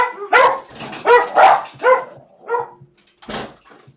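Dogs barking in a garden, a series of several loud, close barks and yips in uneven bursts, with a softer whimpering yelp near the end.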